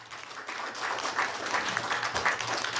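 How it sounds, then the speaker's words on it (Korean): A forum audience of elders applauds a speaker after a lecture on Korean national history, a steady dense wash of many hands clapping at moderate distance, without voices. "뜨거운 박수 부탁드리겠습니다"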